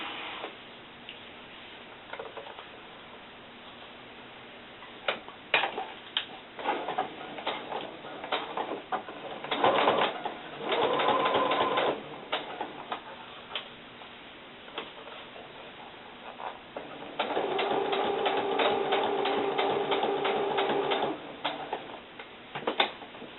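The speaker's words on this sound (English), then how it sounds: "I'm going to top stitch from the front so I can see exactly where I'm sewing" Sewing machine top stitching small doll boots: short bursts of rapid mechanical stitching with clicks and pauses between them, two longer runs near the middle and end, fairly quiet and close.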